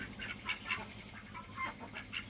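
Ducks quacking on a farm where chickens and goats are also feeding, a scatter of short nasal calls at moderate distance, fairly quiet, with no talk.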